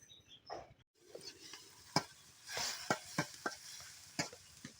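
Asafoetida and spices frying in a kadai during village-style cooking: a soft sizzle broken by repeated sharp scraping stir strokes, close and fairly quiet.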